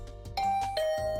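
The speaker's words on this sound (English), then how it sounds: "I rang the doorbell, and Tsubasa opened the door" A two-tone doorbell chime in a video game rings out clearly in a quiet scene, a bright ding followed by a lower dong, with no voices.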